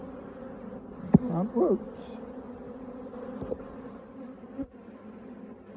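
Honey bees disturbed at an open hive in spring heat, their buzzing swelling into a fairly close drone with a few sharper bursts and knocks, while a person speaks briefly.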